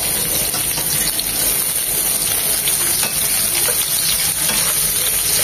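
Chopped garlic and a small chopped onion fry in hot oil in a pan for a bitter gourd dish with hilsa fish head, producing a dense, even crackling sizzle that stays loud and close without a break.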